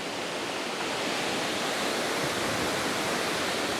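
Broad, steady roar of a rushing waterfall, dense and close, filling the whole clip without pause and with no voices over it.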